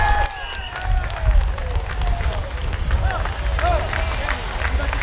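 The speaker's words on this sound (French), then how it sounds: "sous les applaudissements du public" Roadside crowd at the 2017 Tour de France applauding and cheering passing cyclists into a headwind: steady clapping and shouts with wind rumble underneath, while a commentator talks over it.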